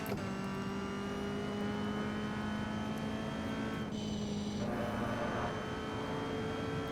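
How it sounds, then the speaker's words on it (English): Sim racing video game car driven on track with a steady engine drone and a distinct high transmission whine running continuously, briefly dipping as the car shifts or lifts, without any talk. "I love how you can hear that transmission whine."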